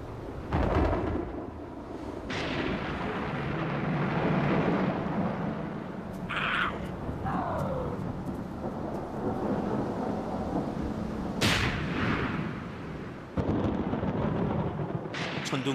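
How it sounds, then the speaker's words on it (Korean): Thunder over a summer grassland with no rain: a continuous deep rolling rumble with a few sharper cracks breaking through, sustained and fairly loud throughout. "더운 여름에는 초원의 하늘에 번쩍번쩍 천둥번개가 치기도 하죠"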